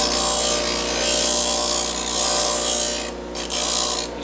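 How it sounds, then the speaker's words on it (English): Bench grinder rounding off the corner of a metal plate, giving a steady, loud abrasive rasp with a droning hum beneath, cutting out briefly twice near the end as the piece is lifted. "Now over on the grinder, I'm just going to round this corner off just a little bit."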